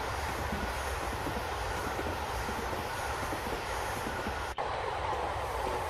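Train in Train Simulator Classic on the Harrogate Loop, a steady, loud rumble of a moving train with wheel and track noise continuing evenly throughout and a brief dropout near the end.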